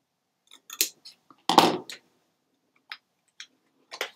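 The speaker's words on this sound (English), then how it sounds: "we are going to angle and cut out a little wedge." Scissors cutting a wedge out of paper: a few sharp, close snips and ticks with quiet gaps, one longer crunchy cut in the middle, in a quiet room.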